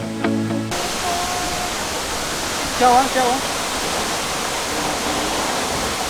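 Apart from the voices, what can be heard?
waterfall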